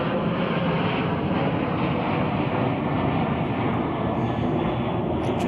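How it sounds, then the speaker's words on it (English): A United Airlines Boeing 737 departs Chicago O'Hare bound for Las Vegas, its engines producing a loud, steady broadband jet roar that holds without a break throughout. "It's a Boeing 737."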